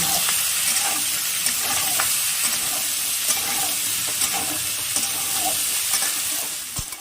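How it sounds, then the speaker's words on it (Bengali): Diced potatoes frying in oil in a pan for a prawn and potato curry, a steady loud sizzle with intermittent stirring scrapes, no voices. "এবার আমি গুঁড়ো আলুটা দিয়ে দিলাম। এটাকে একটু ভেজে নেব।"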